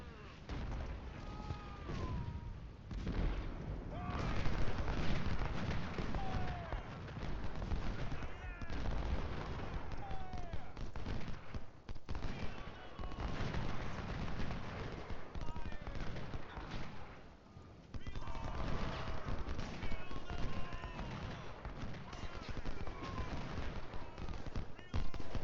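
Gunfire and artillery from a Civil War battle in the game Ultimate General: Civil War, a dense, continuous crackle of musket volleys mixed with deeper booms, steady and distant-sounding throughout.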